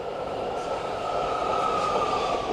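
A Bay Area transit train rolls along its rails, heard from inside as a steady loud rumbling roar with a faint high whine, continuous throughout and without talk.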